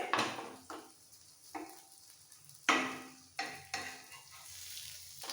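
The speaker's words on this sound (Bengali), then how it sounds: "এইভাবে দুটো পিঠই ভালো করে ভেজে নেব" Parshe fish frying in a little oil on a tawa, a soft sizzle punctuated by several sharp scrapes and taps of a spatula against the pan at uneven intervals, close and fairly quiet, no voices.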